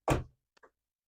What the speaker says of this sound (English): you get these 2 pantry drawers